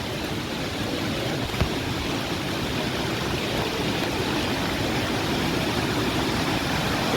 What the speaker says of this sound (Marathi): या ठिकाणी मस्त वॉटरफॉल असं होतं भारी आहे.